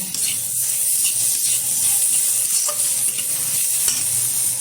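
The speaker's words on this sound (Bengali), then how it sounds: "এবার ভালোভাবে একটু মশলাটা নেড়ে চেড়ে নেব" Spice masala with tomato is stirred in a hot pan, giving a continuous sizzle with scraping strokes from the spatula, close and fairly loud, without talk.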